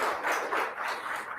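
Audience applause for the Imara Girls at a digital economy event, a steady broadband wash of clapping that swells and dips over a short stretch at moderate, somewhat distant level.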